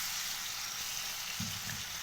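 Chopped onion frying in a pan for a Ramadan dish, a steady broadband sizzle running throughout with a brief louder burst of crackling near the end, no voices.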